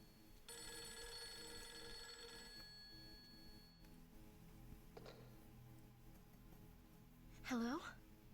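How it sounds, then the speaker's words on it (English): Old telephone bell ringing in the horror video game Project Zero 3: The Tormented, a steady rapid metallic trill for about three seconds, fairly loud, followed by a faint click and a brief rising tone. "the phone's gonna ring"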